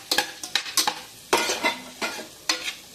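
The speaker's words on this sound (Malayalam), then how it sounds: "നന്നായി ഇളക്കി കൊടുക്കാം" Chopped potato, carrot, beans and tomato stirred in a hot pan for vegetable biryani, a utensil scraping and clinking against the metal in about six quick strokes over a soft sizzle, close and clear with no talk.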